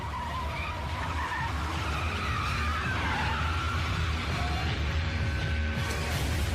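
Car tires squealing and skidding as the vehicle speeds away, a sustained loud screech over roaring engine and road noise, continuous throughout.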